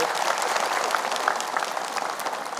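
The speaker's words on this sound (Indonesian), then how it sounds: "Oke, tepuk tangan lagi deh." A studio audience applauds on a morning religious television program, a steady and fairly dense round of clapping at moderate volume, with no voice over it.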